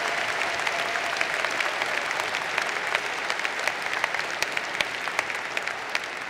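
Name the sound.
commencement audience applauding Brendan Bechtel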